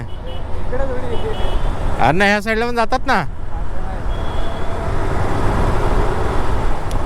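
Busy road traffic on a holiday outing, a steady rumble of passing vehicles and engine noise under close conversation, with a brief burst of a wavering siren-like horn partway through.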